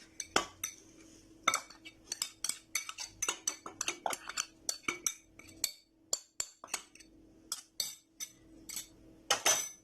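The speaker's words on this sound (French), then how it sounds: "Et on mélange." A utensil scrapes and taps repeatedly against a bowl while almond powder is mixed into creamed sablé biscuit dough, making a dense run of sharp clinks and knocks that stays close and quiet, with no talking.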